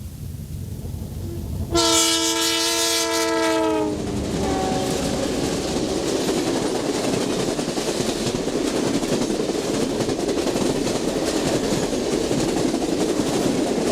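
An early Amtrak passenger train arriving at Oakwood station, Wisconsin, sounds a loud multi-tone horn for about two seconds, then a shorter blast, followed by a sustained rumble and clatter of passing cars.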